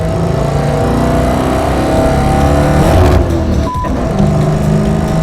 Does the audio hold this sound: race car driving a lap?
yes